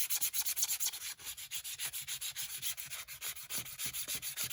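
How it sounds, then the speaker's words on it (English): A coarse fingernail scratches back and forth across a shiny surface on an art journal page, giving a steady run of close, rhythmic rubbing strokes with no voices. "my thought was to scratch it up with my more coarse fingernail"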